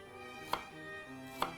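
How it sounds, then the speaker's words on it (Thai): A knife slices old peeled ginger into rounds, two crisp, separate chops about a second apart on a cutting board, quiet and close with faint background hum. "หั่นเป็นแว่นสัก 4-5 แว่น"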